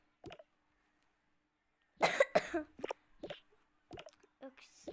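A person coughs in several harsh, close bursts, separated by pauses, with a bit of quiet speech mixed in.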